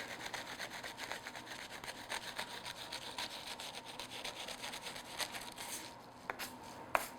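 A serrated knife saws through baked puff pastry strips in a steady, faint rasping back-and-forth rhythm, with a couple of sharper clicks near the end and no talking.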